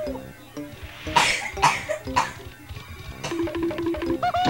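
Several harsh coughs burst out in quick succession, loud and close, with some musical or electronic tones playing in the background.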